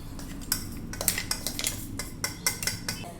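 Coarsely ground sesame seeds are scraped and spooned from a metal vessel onto a plate, giving a quick run of light clinks and scrapes of utensils against dishes, close up with no talking.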